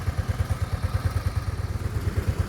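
A Chinese 150cc motor scooter engine idles close by, a steady low chugging pulse with even, rapid thumps repeating throughout, no voices over it.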